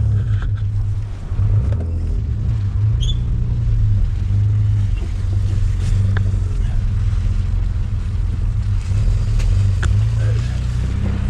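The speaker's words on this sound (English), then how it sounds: "Trying to get the car out and we can hardly get it out" A Vauxhall Cavalier GLS 2.0 16v, left standing since 2007, is eased out of a tight spot on a narrow street, its engine idling with a steady low rumble while people talk over it.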